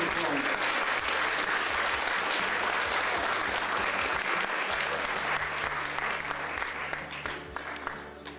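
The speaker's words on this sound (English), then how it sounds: "I'll give another round of applause." Applause from the audience at a village garden-produce and crafts show fills the room, steady dense clapping that carries for several seconds before gradually thinning toward the end.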